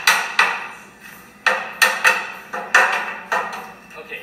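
A hammer strikes the riveted front end of a project car in a home garage again and again, about nine loud, ringing metallic blows at an uneven pace, each decaying before the next.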